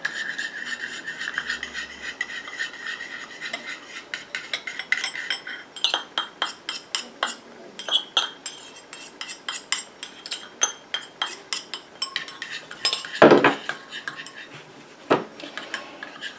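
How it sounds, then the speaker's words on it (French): Cosmetic day cream emulsion, water phase blended into melted oil phase, stirred in a bowl: close, steady scraping and rubbing strokes of a utensil against the bowl, with sharper clinks and knocks near the end. "Et je continue à mélanger comme ça jusqu'à ce que mon émulsion épaississe et refroidisse."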